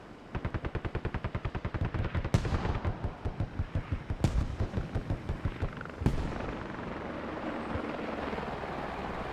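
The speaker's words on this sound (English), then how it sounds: "Mortars coming in as well to shield the caps." Mortar fire in the video game Squad lands as three heavy booms spaced about two seconds apart, over a fast, steady thumping of rotor blades and a continuous battlefield rumble.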